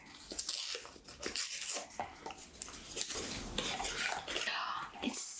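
Paper around a jewelry box is unfolded and torn in close, crisp crinkling and rustling bursts that continue steadily without speech.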